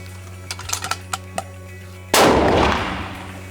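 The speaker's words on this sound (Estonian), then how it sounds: "Kõigepealt teeme ühe paugu vanamoonaga ette, mis on Norma Oryx" A Sako rifle in .30-06 fires a single Norma Oryx round. It is one loud, close blast with a long ringing decay, preceded by several light mechanical clicks of handling.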